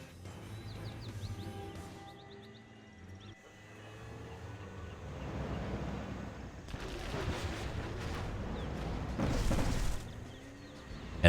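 Generals Zero Hour real-time strategy battle: flashbang weapon fire against tank hunters, heard as loud, rumbling blasts and crackling impacts that swell toward the end, with faint whistling tones early on and no talk.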